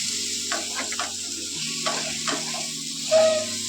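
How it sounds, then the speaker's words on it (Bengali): Salted ridge gourd fries in a pan, giving a continuous soft sizzle with a few stirring scrapes and one brief sharper hiss near the end, heard close and without talk. "আমি ঝিঙেগুলোকে এভাবে ভেজে নেবো একটু"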